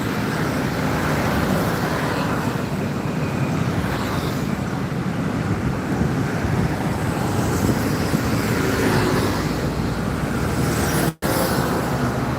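A blue Hino bus on a road passes among steady, loud traffic rumble, a continuous broad roar with no distinct pass-by peak and a brief dropout near the end.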